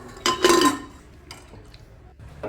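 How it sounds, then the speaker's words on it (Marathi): A metal pot clanks and scrapes as it is set down inside a pressure cooker, followed by a couple of softer knocks. "ते भांडं आपण कुकरमध्ये ठेवूया कुकर गॅसवरती ठेवूया नंतर आपण झाकण लावूया"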